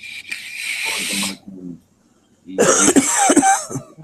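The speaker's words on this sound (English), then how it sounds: "I just heard coughing" A few harsh coughs close by, broken by a brief pause, followed by another burst of coughing mixed with throat noises.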